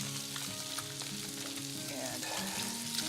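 Halved baby bok choy stalks sizzling in olive oil in a pan, a steady moderate frying hiss with faint clicks from the pan.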